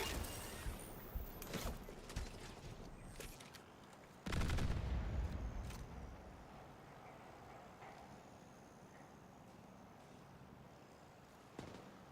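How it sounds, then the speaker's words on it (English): A rogue artillery turret fires in The Division 2, sending a string of sharp gunshot-like blasts with one heavy booming impact midway. Scattered reports follow, fading into lingering rumble and ambient noise. "Rogue artillery turret."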